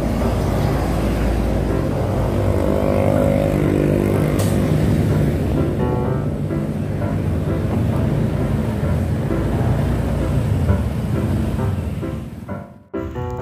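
A Honda Click motorcycle, its battery revived, runs and pulls away with a steady close engine drone and rising tones midway, fading near the end before a sharp cutoff.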